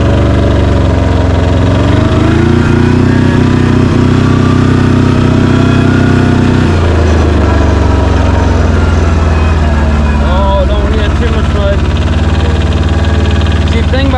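An Arctic Cat off-road vehicle with a diesel engine runs in two-wheel drive through mud, its steady loud engine drone shifting pitch as it drives, while a person talks over it.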